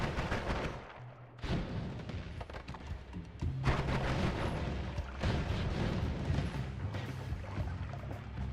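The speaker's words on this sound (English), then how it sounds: "Just takes a couple hundred of explosions." Rumbling, crackling explosions from the video game Noita come one after another in a dense, continuous barrage, with booming blasts and debris-like crackle filling the mix; no speech.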